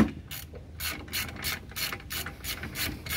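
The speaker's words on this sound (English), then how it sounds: "Go ahead and crank this sucker down with the 18mm deep dish." A ratchet with an 18mm deep socket cranks down front brake caliper bolts on a Jeep Grand Cherokee WJ, giving rapid bursts of close metallic clicking in several quick strokes with short pauses between them, no talking.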